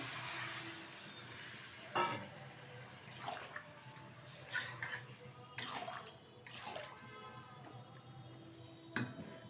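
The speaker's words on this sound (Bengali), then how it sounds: "এর মধ্যে দিয়ে দেবো খুব অল্প পরিমাণে একটু জল" A small splash of water poured into mixed vegetables cooking in a pan for a Bengali five-vegetable curry, heard as faint, scattered liquid trickles and soft pan clatter in a quiet kitchen.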